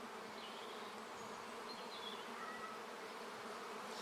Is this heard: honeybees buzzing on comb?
yes